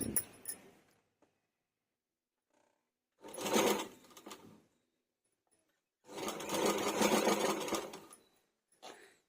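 A sewing machine stitches a blouse front in two running bursts of a few seconds each, separated by quiet pauses, with a brief start at the beginning and end; close and moderately loud, no talk.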